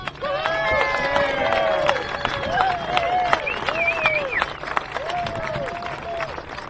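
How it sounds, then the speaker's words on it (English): A crowd at a #StandWithICE support rally in Aurora, Colorado cheers and claps steadily for the whole stretch, with loud whooping voices rising over the broadband clatter. "give my dear friend Jenny Beth Martin just the warmest round of applause"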